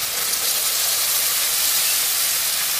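Ginger, garlic, coriander and coconut paste hits hot oil with hing and turmeric in a pan for Maharashtrian chavali usal, giving a steady, loud, broadband sizzle that hisses evenly throughout with no talking.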